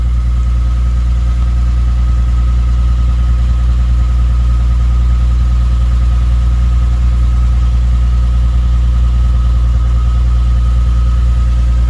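A Lexus IS350 engine with an HKS Hi Power exhaust idles steadily while warming up, a low, constant rumble and faint vibration, no voices, holding the same level throughout.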